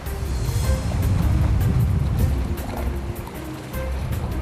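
High sea swells around boats at an offshore undersea cable installation site: constant rushing water and wave wash with wind, close and fairly loud, no voices.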